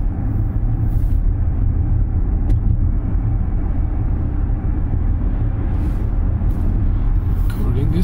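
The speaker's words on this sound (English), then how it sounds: "I'm gonna drive a bit more sporty." An Audi e-tron electric car is driven hard. Its cabin fills with a loud, steady road rumble and low drone that runs unbroken throughout, with no clear engine note.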